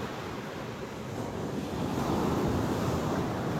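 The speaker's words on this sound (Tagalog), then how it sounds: "medyo may alon na kaunti lang naman, kayang kaya" Steady wash of small sea waves with breezy wind rumble, continuous and swelling slightly louder toward the end, no voices.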